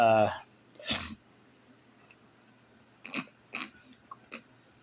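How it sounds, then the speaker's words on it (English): A person clears their throat in a few short, rough bursts, with an initial louder cough-like clearing followed by quieter scattered rasps, close and otherwise quiet. "I had to clear my throat"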